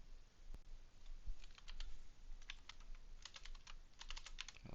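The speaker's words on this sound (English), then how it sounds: "Why am I so bad at typing?" Rapid, irregular keystrokes on a computer keyboard, clicking in quick bursts close to the mic over a faint steady background hum, with no talk.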